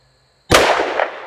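A single sharp gunshot from a short-barreled AR rifle at a shooting range, loud and close, with an abrupt onset and a broad blast that rings out and decays over about a second.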